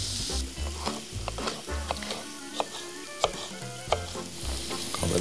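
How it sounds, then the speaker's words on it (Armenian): Garlic and ginger frying in a pan, a loud close sizzle with rapid scraping stirs and clinks of a utensil against the pan, and a low rhythmic hum underneath. "ավելացնում ենք սխտոր և իմբիրը։"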